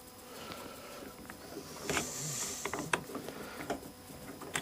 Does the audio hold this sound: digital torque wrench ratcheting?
yes